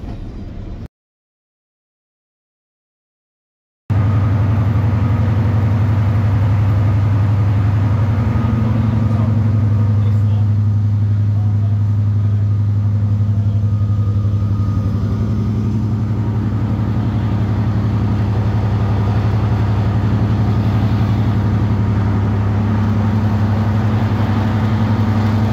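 A Deltic diesel locomotive engine running at a railway diesel gala, a loud steady low drone and mechanical hum held throughout after a brief silent gap near the start.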